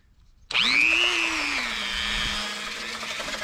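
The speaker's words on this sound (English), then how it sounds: "Got my trusty little Dremel here." A handheld Dremel rotary tool fitted with a brass wire brush, cleaning a motorcycle hub on a 1972 Honda CB500 Four, starts abruptly and whirs at a steady high-pitched whine that dips slightly as it bites the metal.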